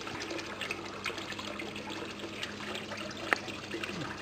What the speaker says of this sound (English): water is running out